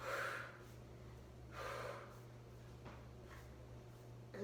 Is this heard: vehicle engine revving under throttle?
no